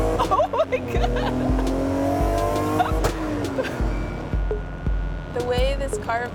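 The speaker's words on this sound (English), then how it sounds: "The way this car vibrates does not feel safe to me." A car engine drones and shifts pitch as it drives and accelerates, with brief tire squeal and rising revs, loud and close, while people talk excitedly over it inside.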